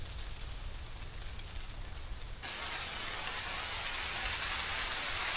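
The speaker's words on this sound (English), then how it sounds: "Yep, there go the rain." Rain sets in during a night backpacking hike through fog, a constant hiss that swells noticeably partway through as the shower strengthens, while a steady insect drone continues underneath and no one speaks.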